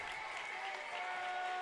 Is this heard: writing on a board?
no